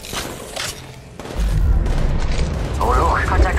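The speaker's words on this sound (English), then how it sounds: "They're shooting at me." Enemy gunfire in Apex Legends Mobile, with low booming shots and rumbling fire building up after a quieter opening, while a voice talks over part of it.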